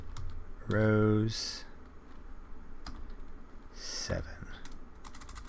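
Computer keyboard typing while coding a Python pandas script, a short burst of key clicks near the microphone with a person talking briefly over it.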